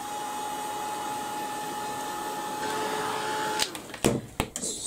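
A heat tool blows steadily for card embossing at a craft table, a continuous whirring hiss with a faint tone that runs for several seconds, then cuts off into a few brief knocks and handling sounds.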